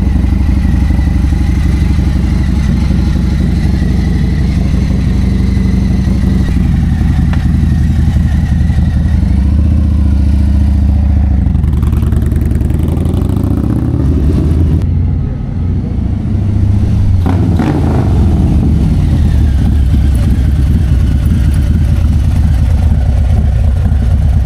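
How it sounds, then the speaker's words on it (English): A motorcycle engine runs loud and close during a test ride after repairs, a steady rumbling drone that rises and falls with throttle changes and shifts partway through; no one speaks. "So Mike just took it for a spin."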